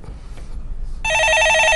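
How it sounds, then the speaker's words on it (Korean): A telephone rings loudly on a live stock-market call-in broadcast, a steady electronic ringing tone that begins partway through and continues to the end after a stretch of quiet room sound. "전화 받아보겠습니다"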